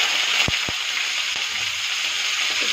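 Green chillies drop into hot oil already holding cumin, a bay leaf and a dried chilly, giving a steady close sizzle with a few sharp pops near the start.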